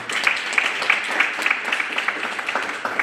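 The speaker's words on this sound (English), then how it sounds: "let's give him a round of applause for that" A meeting audience applauds after a State of the Schools address, a steady patter of many hands clapping that holds evenly for a few seconds at moderate loudness with no talk over it.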